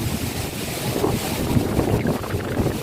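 Strong, cool wind rushes steadily at Bucana Beach in Nasugbu, Batangas, buffeting the microphone in a loud, continuous roar.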